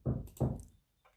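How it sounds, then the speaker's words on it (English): Two muffled knocks on a door thump in quick succession in the background, followed by a faint tap, with no talking. "It sounds like they're knocking."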